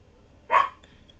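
One short, sharp dog bark rings out alone against near silence, loud and close, followed by a faint tail.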